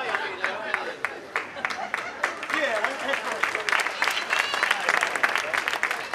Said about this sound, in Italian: Un grande applauso alla nostra giuria di qualità